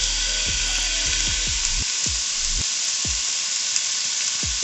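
Beef and onions sizzle hard in a hot pot, a dense continuous hiss broken by scattered clicks and scraping knocks.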